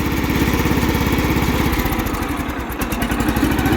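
A John Deere L110 lawn tractor engine, not yet warm and sluggish after sitting for ten years, runs steadily close by with a low, throbbing pulse, its rhythm loping and uneven through the middle stretch.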